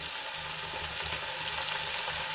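Tomatoes and onions sautéing in a pan for a sandwich filling give a steady, close frying sizzle that holds evenly throughout, with no voices over it.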